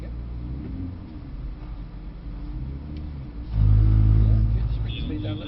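A Mercedes-AMG C63 S on a track pulls hard in second gear, its engine rumbling steadily under an instructor's voice before surging louder into a deep, full roar partway through.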